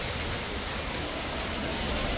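Heavy rain falls steadily, making a dense, even hiss that stays loud and unbroken for the whole stretch with no voices.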